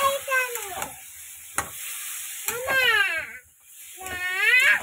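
Ground cumin, meat masala and a little water sizzle steadily in a hot pan, a loud continuous hiss and crackle running throughout, with a voice speaking briefly over it.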